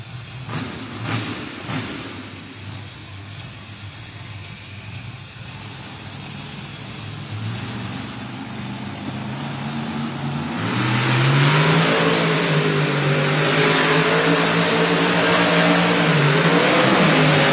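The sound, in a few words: Monster Jam monster truck engine revving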